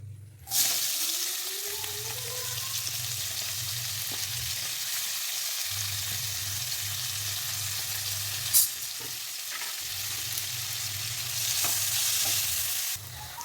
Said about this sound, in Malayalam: ഇവിടെ ചെമ്മീൻ പൊരിച്ച എണ്ണയിൽ തന്നെ നമ്മുടെ സവാള ഇട്ട് കൊടുക്കാം